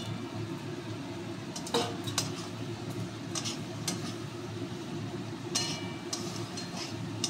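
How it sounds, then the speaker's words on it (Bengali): Pointed gourd being stirred in a cooking pan over fried spices, with soft scraping and occasional clinks of a spoon against the pan above a steady low sizzle, close and moderately quiet. "একসঙ্গে একটু পটলটা নেড়ে নিচ্ছি।"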